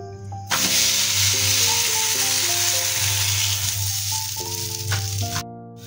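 A cabbage paratha fries on a hot griddle with a steady, close sizzle that stays even throughout, while soft music plays underneath.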